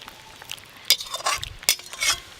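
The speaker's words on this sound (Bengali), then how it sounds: "এটা এবার খিচুড়ির উপরে ঢেলে দিলেই খিচুড়ি হয়ে যাবে" Cooked spice masala is poured over khichuri in a pot, producing clinks of a utensil against metal, splashy scraping and soft sizzling bursts, close and fairly loud, with no talking.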